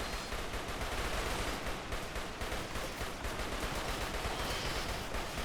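Uranium slug turrets firing in the RimWorld video game during a tundra biome fight, a dense, continuous barrage of rapid gunfire with heavy low-end thumps, loud and unbroken throughout.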